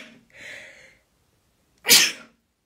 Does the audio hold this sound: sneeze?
yes